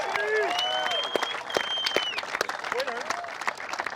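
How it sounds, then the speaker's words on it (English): A crowd at the 2021 Wishbone Brawl golf tournament at Goat Hill Park claps steadily in applause, with a voice talking over it and scattered whoops mixed in. "How about another round of applause for John Ashworth"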